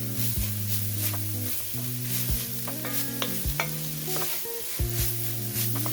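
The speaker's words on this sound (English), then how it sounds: "I'm going to stir that right into the meat." Tomato paste being stirred into sizzling ground meat in a pot for lasagna soup: steady scraping strokes over a continuous frying sizzle, close and fairly loud throughout.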